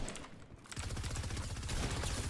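Rapid automatic gunfire from a gun in the Halo video game, a dense, loud, continuous burst of shots beginning after a brief quieter moment and running to the end.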